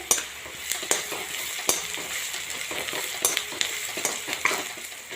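Onions frying in a pan until pinkish, a steady low sizzle punctuated by regular spatula scrapes and taps against the metal, close and fairly quiet.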